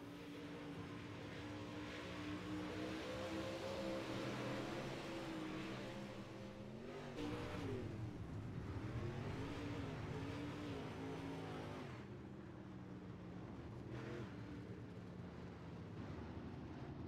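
A dirt modified race car on track at Eldora Speedway, its engine droning loudly and steadily, rising and falling as it rounds the oval, with a lower rumble of other cars underneath.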